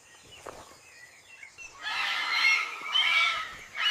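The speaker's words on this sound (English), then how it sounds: "Wow, look at those birds." Birds in a jungle break into loud, harsh squawking calls partway through, in two or three close, dense bursts that follow a quieter stretch of faint forest sounds.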